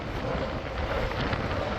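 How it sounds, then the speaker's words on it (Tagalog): Strong wind buffets the microphone outdoors in the Czech Republic, a steady loud roar with broad gusting noise throughout and no talk. "Grabe yung hangin"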